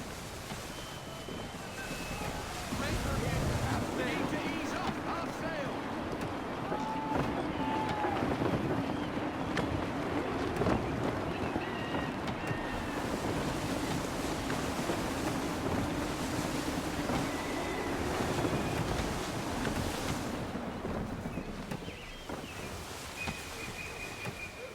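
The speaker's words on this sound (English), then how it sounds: "Gusty winds can be difficult to manage." A sailing ship at sea in the Assassin's Creed III video game, with steady gusty wind roaring and waves washing against the hull in a continuous loud bed, plus occasional faint creaks.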